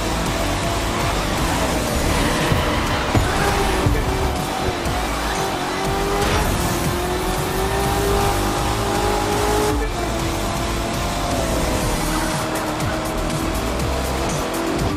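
Race cars tear around a snowy Grand Canyon track in a video game, engines droning loudly and steadily with tires squealing and skidding through the bends, a dense continuous roar throughout.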